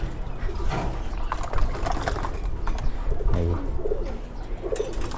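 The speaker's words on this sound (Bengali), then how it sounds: "প্রথম কবুতর উঠছে, এই যে দ্বিতীয় কবুতর।" Pigeons cooing up close while drinking and bathing at a water dish, soft repeated throaty coos with some rustling and background noise, no talk.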